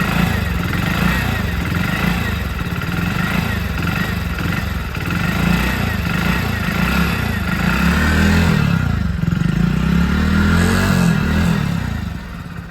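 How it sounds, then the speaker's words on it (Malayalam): Exhaust note of a 2024 Hero Splendor Plus motorcycle, idling with a steady putter and then revved in several swells, loud and close, with a voice speaking briefly over it. "അപ്പോൾ ഇതാണ് എക്സോസ്റ്റ് നോട്ട്"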